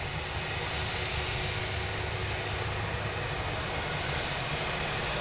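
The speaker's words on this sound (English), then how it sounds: "Here's another Jetstar outbound, wearing the revised livery and the beautiful sharklets." A Jetstar jet airliner with sharklets heads outbound along a taxiway at Sydney Airport, its engines giving a steady, even broadband roar that holds at constant level throughout with no voices.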